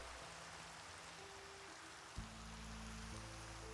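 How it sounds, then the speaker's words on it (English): Steady rain falling in Minecraft, a continuous soft hiss with a low game hum that steps up partway through, no speech. "it's the first time I think it's rained in this game since ever."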